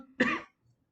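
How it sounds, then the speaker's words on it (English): One short, sharp cough close to a microphone, followed by near silence and a faint low rustle. "I didn't want to cough directly into the microphone."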